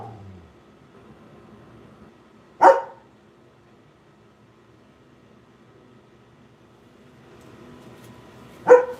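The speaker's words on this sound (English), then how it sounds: "It's funny when the small dogs think that they're bigger than they are." A small dog barks twice, each a sharp single yap several seconds apart, fairly close and loud against a quiet room.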